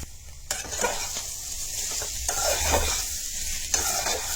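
Ground spices being stirred into frying potato and paneer curry in a pan, with a steady sizzle, close scraping strokes and occasional clinks of a utensil against the pot.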